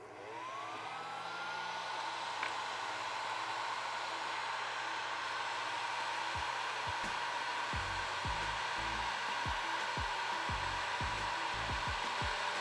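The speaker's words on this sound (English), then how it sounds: "All right, we're turning on the heat gun." A heat gun warming a fluid bed used for coating lure jigs blows with a loud, steady whooshing roar, with scattered low clicks and knocks in the second half.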